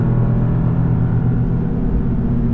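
A Toyota GR Yaris accelerates on the Nürburgring, heard from inside the car as a steady loud low engine and road rumble, with no voices.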